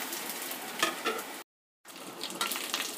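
Dried prawns fry in a pan with a quiet, crackling sizzle and a few stirring scrapes, briefly cut off by a moment of total silence before resuming.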